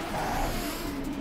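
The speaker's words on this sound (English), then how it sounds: "welcome back to the Sunday Drive where we're driving a Volkswagen Golf VR6" A Volkswagen Golf VR6 engine in Assetto Corsa drones steadily on the Pikes Peak International Raceway Grand Prix track. Its hum is constant and fairly loud, with a slight pitch shift as it holds revs.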